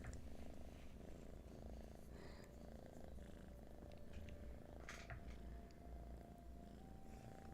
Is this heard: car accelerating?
no